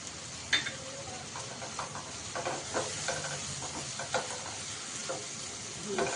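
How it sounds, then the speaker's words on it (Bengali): Spiced masala sizzles and crackles in a hot pan as a spoon stirs it, with steady frying hiss broken by scraping strokes, cooked for an egg sandwich. "আবার এটা নেড়ে চেড়ে মশলাটা ভালোভাবে কষে গেছে।"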